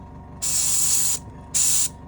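Primer spray can misting hobby models in two close hissing bursts, the first longer and the second shorter, after a quiet moment.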